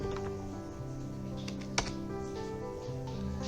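A command being typed on a computer keyboard during a Linux terminal lesson, heard as soft, scattered key clicks with one sharper tap, close by over a steady background hum.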